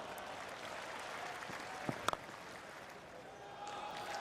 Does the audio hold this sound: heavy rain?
no